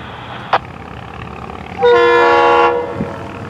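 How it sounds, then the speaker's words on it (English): FEC103, the Fort Pierce freight train, crossing Michigan Street through a work zone: one sharp clank, then a loud, sustained horn blast of about a second over steady rail rumble, which tails off into a softer rolling sound. "FEC103, the Fort Pierce train, just working its way through the work zone across Michigan Street right now."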